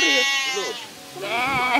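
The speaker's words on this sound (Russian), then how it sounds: "Вот мои овечки, мои девочки все." Tame sheep bleat on a farm, two long wavering calls close by, one early and one after a short pause, with faint voices in the background.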